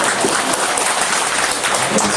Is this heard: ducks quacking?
no